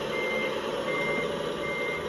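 Truck reversing beeps from Scania Truck Simulator, a steady, insistent alarm tone repeating over engine drone, fairly loud and without speech.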